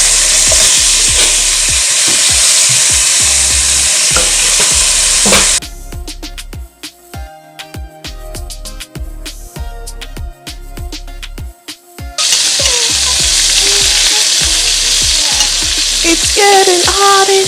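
Oxtail searing in a hot pot for Jamaican oxtail stew, a loud close sizzle and crackle of frying meat with stirring and clatter, quieting briefly in the middle before the full sizzle returns.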